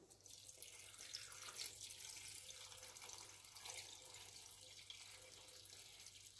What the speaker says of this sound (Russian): Разделили, заливаем водой.